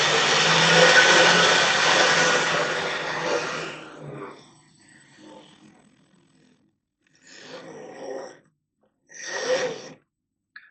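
A Triang R55 Mk1 motor bogie from a 1955 first-generation F7 diesel model train runs with a steady close whirring hum for several seconds, then stops and starts in two shorter bursts.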